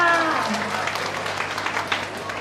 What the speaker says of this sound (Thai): ขอเสียงปรบมือให้ทุกท่านกันดังครับค่ะ